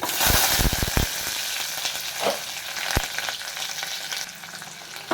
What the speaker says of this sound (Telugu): అవి ఫ్రై అయ్యాక ఉల్లిపాయ పచ్చిమిర్చి కరివేపాకు వెల్లుల్లిపాయ ఇంకా ఎండుమిర్చి వేసుకుంటున్నాను